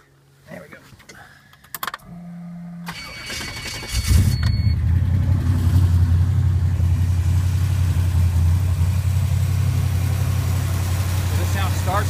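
A 1975 Datsun 280Z with a fuel-injected engine cranks and starts cold, settling into a steady, rough idle close by, after a few clicks and brief mechanical noises at the start.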